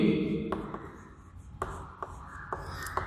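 Short, sharp taps and scratches from writing on a board or paper come at irregular intervals, close by, after someone talks at the start.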